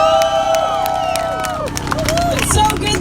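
A rally crowd at Berkeley cheers and claps loudly and without a break, with whoops and shouts rising over the steady roar and amplified speech cutting in near the end.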